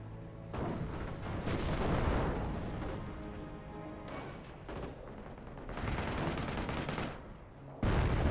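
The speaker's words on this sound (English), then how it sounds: "It's a 2-inch mortar." Video-game battle with 2-inch mortar fire: dense, continuous rumbling bursts and booming impacts rolling through a noisy combat soundscape, with no talk.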